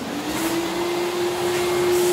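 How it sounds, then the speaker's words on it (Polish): Close vacuum cleaner cleaning plaster dust out of electrical boxes, its motor drone rising slightly in pitch as it runs steadily and loudly with a rushing airflow hiss. "Później możemy wziąć sobie odkurzacz."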